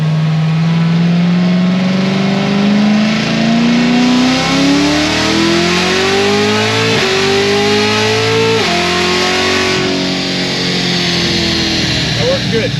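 An LT4-powered car makes a full pull on a dyno, its engine screaming up through the gears in loud rising sweeps with brief shift dips, then easing off toward the end.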